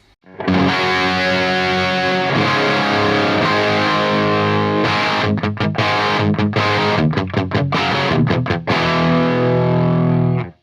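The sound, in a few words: distorted electric guitar through amplifier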